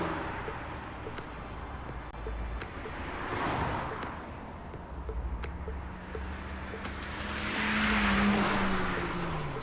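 Racing car in the game Love and Deepspace speeding past among illegally modified street racers at night, a rising engine note and a long tire squeal swelling near the end over a broad rushing wash of road and wind noise.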